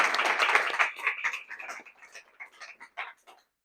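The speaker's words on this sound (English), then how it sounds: "So let's give a round of applause for Kaya." An audience applauds at a book event, with dense clapping that starts full and thins into scattered claps before fading out after about three seconds.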